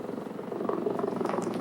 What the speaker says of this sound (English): Another helicopter coming in